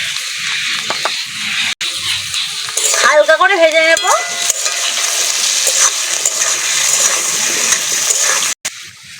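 Potatoes seasoned with salt and turmeric hit hot oil in a pan, setting off a steady loud sizzle and stirring scrapes, with a brief squeaky whine partway through.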